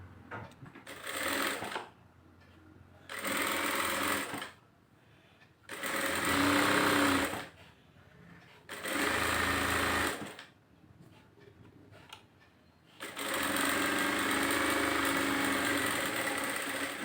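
A sewing machine stitches a frill onto the sleeve of a silk saree in four or five bursts of rapid whirring, each lasting one to three seconds and separated by short quiet pauses, loud and close.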